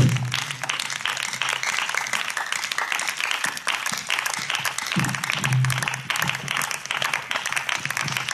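A congregation at an evening church service claps in a continuous, moderately loud wash of applause with uneven rhythm and no voices standing out.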